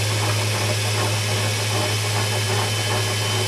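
A valve grinding machine refaces small VW exhaust valves at a 45-degree angle, giving off a steady, even motor hum with a strong low drone and a constant grinding hiss, close and unbroken, with no talking.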